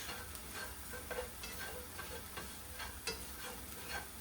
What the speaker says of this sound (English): Get those mixed, let them finish sauteing a little bit before I add the spinach.